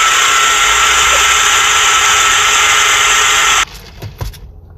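A car engine idles steadily with a loud, even mechanical hum for several seconds, then cuts off abruptly, leaving faint clicks and knocks.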